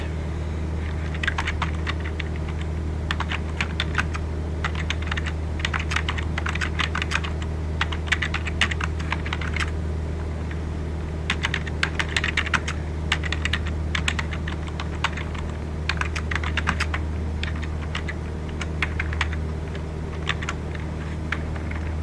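Computer keyboard typing in bursts of rapid clicks with short pauses, heard against a steady droning engine hum inside a Cessna 172 cockpit.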